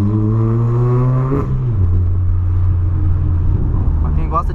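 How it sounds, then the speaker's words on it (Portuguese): A loud, deep Volkswagen Polo engine drones with a throaty aftermarket exhaust, pitch dropping from a higher rev to a steady low rumble, close by. "Meti um escapizão no meu Polo aqui, filho. O bagulho tá chamando demais."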